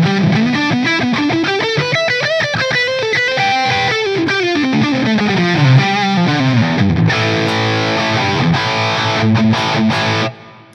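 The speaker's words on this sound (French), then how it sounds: "Bah, c'est une belle reverb, voilà." Distorted electric guitar through a Nux Trident multi-effects unit on a Bogner Uberschall amp model, played alone with lush reverb, a run of chords and sliding notes that ends in a ringing tail.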